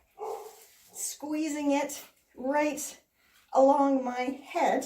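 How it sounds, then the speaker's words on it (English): A dog barks and yips in the background indoors, a few short bursts heard under someone talking continuously. "Pardon the dog barking."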